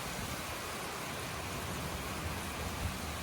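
Heavy rain from a passing storm soaking a new pond site, a dense, steady roar of downpour with no break, close and loud throughout.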